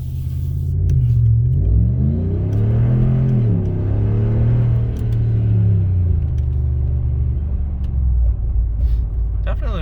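Dodge Ram 1500 pickup with a Spectre aftermarket intake, its engine revving up and settling back in one long, loud, deep rumbling swell, close by.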